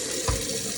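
A kitchen tap runs over vegetables being washed, a short close gush of water in the sink.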